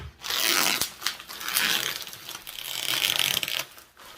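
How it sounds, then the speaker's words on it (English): Close, loud ripping and crinkling as a fragile-marked Harry Potter shipping package is torn open, a string of rough tearing bursts over about four seconds with no talk. "But let's rip this open."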